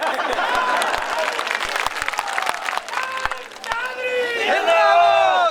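Audience applause at a political rally speech in Mathura, a dense crowd clapping steadily throughout, loud and close, with a voice talking over it near the end.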